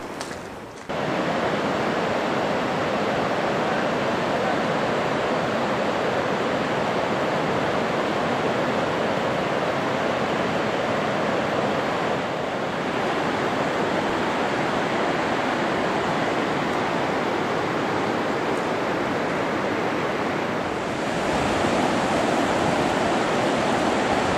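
A constant deep roar of the Bride's Veil waterfall near Baños, heard from some distance, steady and unbroken, with a slight shift in tone near the end.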